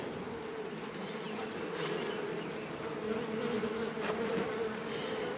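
Honey bees from a newly installed colony buzz steadily in an opened hive, a dense close drone with individual insects whining past.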